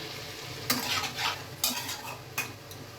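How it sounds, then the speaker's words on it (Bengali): Water is poured onto sizzling cauliflower in a pan, giving a close, loud burst of hissing sizzle with a few sharp utensil clinks and stirring scrapes over about three seconds. "এর মধ্যে আমি জল অ্যাড করছি"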